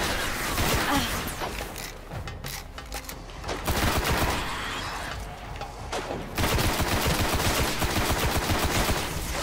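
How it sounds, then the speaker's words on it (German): Rapid gunfire from the video game Destiny on PS4 rattles in dense bursts, with automatic volleys broken by brief pauses and layered with game effects. "Ein paar gezielte Schüsse."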